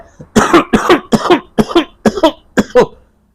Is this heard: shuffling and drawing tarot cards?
no